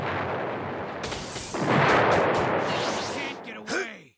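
Fireball Jutsu fire-style attack in Naruto Ultimate Ninja Storm, a loud roaring whoosh and blast that swells, sustains, then ends with a sharp burst, alone without talk.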